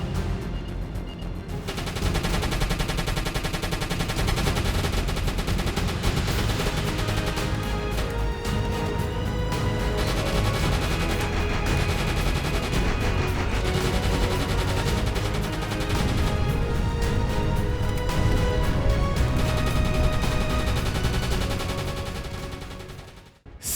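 Sustained anti-aircraft gunfire against RAF bombers in the submarine game Uboat, a dense, loud, continuous rattle of rapid shots with no pauses, running almost the whole time before cutting off.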